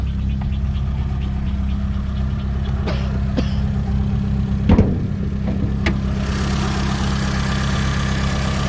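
A 1996 Mitsubishi Lancer E-car with a fuel-injected engine idles steadily up close, a continuous low rumble with a few brief clicks and knocks layered over it and a short louder bump around the middle.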